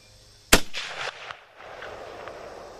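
One sharp, loud gunshot from a Finnish M39 rifle cracks out close by, followed by a brief echoing rumble that fades in a cramped shooting space.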